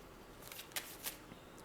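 Tarot cards drawn and slid from a deck during a pick-a-card reading, a few soft, brief papery swishes and flicks spaced apart, faint and close with no talk.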